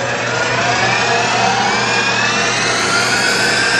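A CNC mill spindle spins at a steady top speed of about 4,000 RPM, giving a loud, constant high-pitched whine with a low hum beneath it, unbroken and alone throughout.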